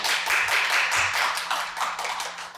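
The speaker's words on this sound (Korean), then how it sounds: "박수로 맞아주시기 바랍니다" An audience gives a dense round of applause to welcome a speaker at a forum on care workers' conditions, steady close clapping with no talk over it.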